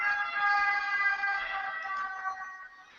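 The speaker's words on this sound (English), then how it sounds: "The place in there, Fabio, sounds like foreign sirens." An ambulance siren wails steadily and fairly loud, its harmonic tone holding and wavering slightly before fading a little toward the end.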